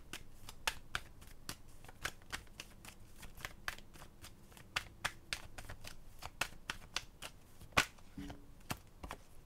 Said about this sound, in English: Let me get one more shuffle for Cancer or anyone else who's guided to see the Cancer reading.